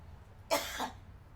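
A single short, sharp cough from one person, close and fairly loud, standing alone against quiet room background with no talk.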